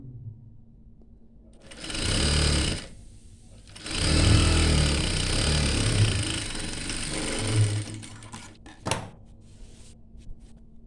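A sewing machine stitches an inskirt in several bursts of whirring, one short run, then a longer sustained stretch with slight speed changes, a brief final burst, and quiet handling noises between.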